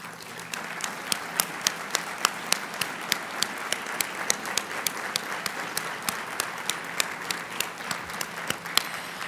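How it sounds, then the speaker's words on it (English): At a ceremony honoring World War Two veterans, an audience gives hospice volunteers a sustained round of applause, with fairly quiet, even clapping and a few sharper, distinct claps standing out. "Would you please stand for a moment for a round of applause?"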